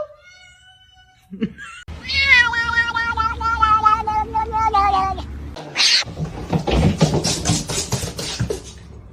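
A cat meows loudly and drawn-out close by, then a person speaks over further shorter cat sounds and rustling.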